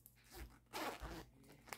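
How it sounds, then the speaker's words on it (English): A zipper on a vinyl travel bag gives a couple of short, close rasping pulls, nearly alone with only light handling noise. "It has a zipper"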